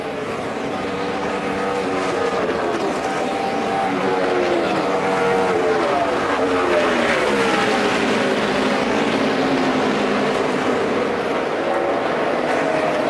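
NASCAR Sprint Cup race cars roaring around Homestead on the final lap of the 2012 Ford EcoBoost 400, a loud continuous engine drone with shifting pitch as the field passes, steady throughout with no quiet gaps.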